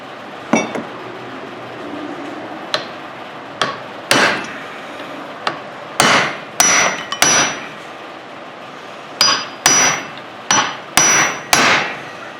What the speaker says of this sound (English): Interesting to hammer down. Hard smack.